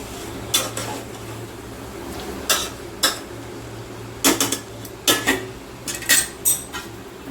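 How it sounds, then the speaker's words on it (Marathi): A spoon stirs a soybean veg biryani mixture in a metal pot, scraping and clinking against the sides in irregular bursts, loud and close, with a low steady hum underneath and no talking. "आता हे एकजीव करून घेऊ चांगलं."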